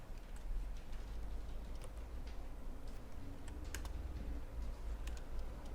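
Soft, rapid keystroke clicks on a computer keyboard, typing code over a low steady background hum.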